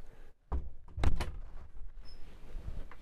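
A door on a 2014 Cruisers Yachts 48 Cantius closes with a close, solid thunk and a short mechanical rattle of the latch, followed by quiet cabin ambience, with no talk.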